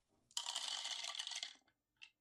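Attack dice tumbling and clattering across a table in a dungeon-crawl board game, one quick rattling roll of about a second, then a single small click as a die settles, heard alone and close.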